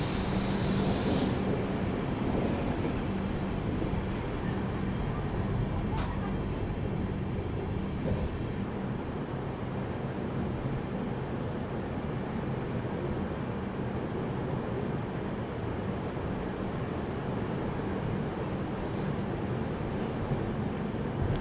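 The Bangalore Rajdhani express runs straight through Bangalore Cantonment station without stopping, heard from inside as a steady, loud rumble and hiss of the coach on the rails, with brief rattles near the start.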